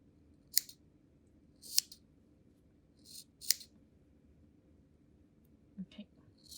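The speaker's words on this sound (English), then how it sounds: "the next step, you want to trim off the tails that are so long" Scissors snip the long yarn tails of a punch needle brooch in four sharp, quiet cuts spaced about a second apart, followed by faint handling clicks near the end, close up in a quiet room.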